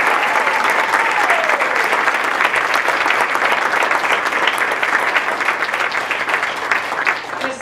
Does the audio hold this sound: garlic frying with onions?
no